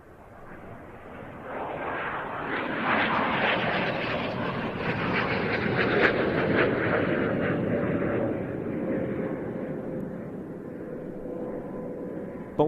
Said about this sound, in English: what we see here today is a highly modified version, the McDonnell Douglas AV-8B Harrier II